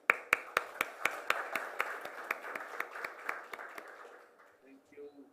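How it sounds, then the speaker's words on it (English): Sparse audience applause at the Jamaica Diaspora Conference 2022, a dozen or so distinct, evenly spaced claps that thin out and fade, followed by faint sounds near the end. "I ask that you keep the applause going"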